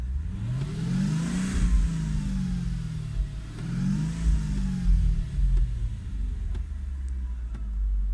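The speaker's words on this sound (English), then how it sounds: "I'll start the motor. This is the V8. Give it a little bit of a rev." A 2003 Mercedes-Benz CLK500 V8 engine rumbles steadily, rising twice in smooth revs before settling back to a deep idle, close and fairly loud.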